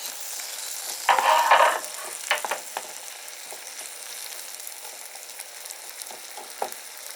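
Onions fry in a pan with a brief louder sizzle burst early on, then settle into a quieter crackle with occasional light stirring taps; no voices.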